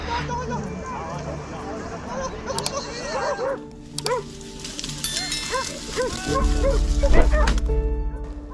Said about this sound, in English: all while the dogs' barks echo in the air